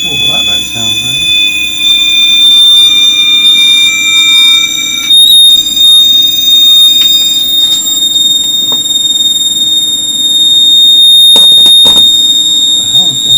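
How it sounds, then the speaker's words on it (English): A high, thin mechanical squeal from a Sony TC-K611S tape deck motor whines steadily and shifts in pitch, with clicks and a low motor hum underneath, alongside someone speaking. "that's a motor squeal."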